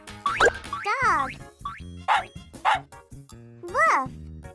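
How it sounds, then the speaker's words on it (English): Several short, voiced dog woofs from a children's English lesson on animal sounds, coming in quick separate bursts, fairly loud and close, with no other sound around them. "A dog makes a woof sound."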